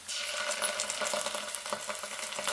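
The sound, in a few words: ginger garlic paste frying with browned onion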